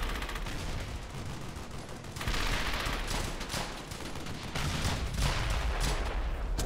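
Sustained automatic gunfire from a machine gun in the World War II shooter Brothers in Arms: Hell's Highway, dense rapid bursts layered with other shots, loud and continuous throughout with no talking.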